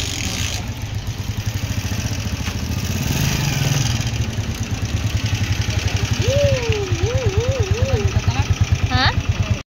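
A motorcycle engine runs close by with a steady idling putter. A rising and falling whine and a brief higher tone come in near the end.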